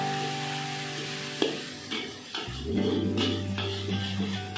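Beef kway teow noodles with egg, Pontianak style, are stir-fried in a pan, with scraping stirs and a rising sizzle of hot oil, close and steady, under a low background hum.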